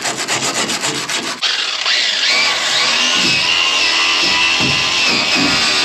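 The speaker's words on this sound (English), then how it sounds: "So I'll start with a wire brush" A wire brush scrubs the cracked weld areas of an aluminum stock trailer, a loud, steady abrasive rasping after a short burst of rapid back-and-forth strokes, close and continuous with no talk.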